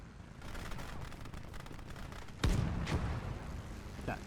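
Heavy gunfire and explosions from a WWII battle in the Gates of Hell: Ostfront strategy game, with a dense rumbling barrage building steadily and then a loud blast near the middle, followed by further sharp bursts.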